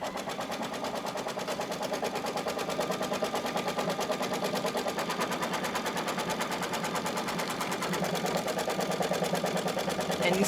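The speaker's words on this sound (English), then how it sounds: "it's going to do an embroidery basting" An embroidery sewing machine stitching a basting rectangle on a tea towel for appliqué, running in a rapid, steady mechanical rattle that stays constant and close throughout.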